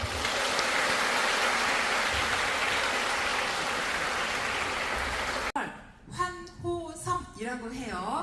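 Audience at a book concert bursts into sustained cheering and applause, a dense steady roar for about five seconds that cuts off abruptly, followed by someone speaking into a microphone.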